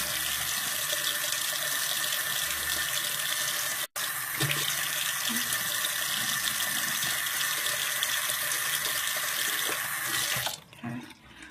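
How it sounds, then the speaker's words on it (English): Tap water running steadily into a bathroom sink while lips are rinsed, a continuous close hiss with a brief break near four seconds, then the flow cuts off at the end. "then I'm just going to rinse my lips."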